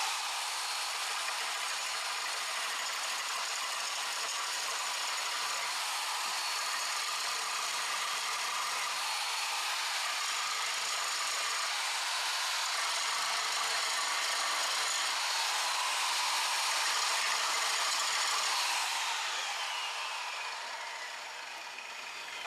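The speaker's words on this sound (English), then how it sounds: "Now I'm going to take my grinder." A handheld power grinder works steadily on a water system part, a continuous bright, abrasive whir that stays even for about twenty seconds before easing off at the end, with no talking.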